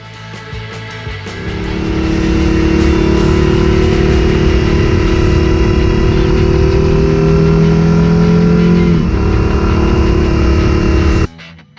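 A Moto Guzzi V100 Mandello V-twin motorcycle engine runs steadily and loud for several seconds, a deep throbbing drone that holds, shifts slightly, then cuts off abruptly.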